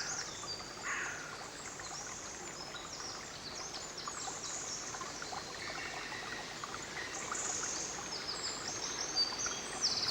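Spring water trickles steadily through a marshy wetland of sphagnum moss and rush tufts, a soft continuous hiss of flowing rivulets with faint insect and bird sounds in the background.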